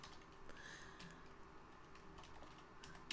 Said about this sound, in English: No, I'm typing backwards.